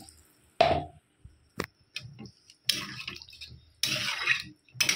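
Water is poured into a cooking pot during home cooking of a cauliflower and fish dish, heard as several separate splashing bursts with quiet gaps between them.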